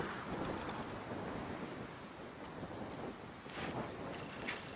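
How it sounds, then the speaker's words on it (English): Wind blowing steadily across an outdoor long-range shooting range, a broad continuous rushing with gusty swells, loud and close with no other clear sounds. "Got some wind blowing"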